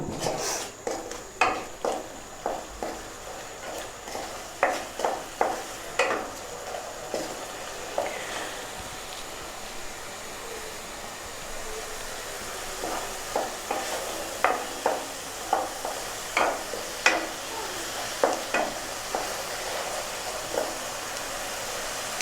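Spice paste frying with shol fish in a pan over raised heat, a steady sizzle punctuated by regular, fairly loud scraping and knocking strokes of a spatula against the pan, a brief lull midway, no voices.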